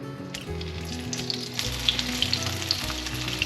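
Patties of lotus root and minced meat, bound with sweet potato starch, fry in oil in a pan over medium-low heat, giving a steady, close crackling sizzle with small pops and no talk.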